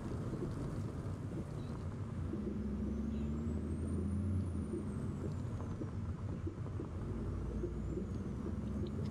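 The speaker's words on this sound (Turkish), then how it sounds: "Tekerlek sesleri özellikle çok güzel." A heavy truck rolls along the road to Kirkenes in Euro Truck Simulator 2. Its tyres give a constant, loud road rumble and hum with light wind noise on top, and the sound runs unbroken throughout.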